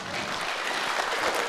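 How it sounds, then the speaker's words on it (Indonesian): An audience at a mayoral debate in Ternate applauds, a short, dense burst of many hands clapping together, loud and continuous across the whole moment with no speech over it. "Kita boleh minta tepuk tangannya sekali lagi."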